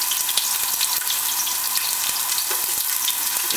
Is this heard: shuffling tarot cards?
no